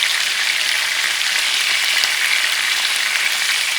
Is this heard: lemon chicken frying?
yes